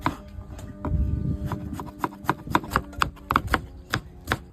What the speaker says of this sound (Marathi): पण आता टमाटे कट करून घेऊ।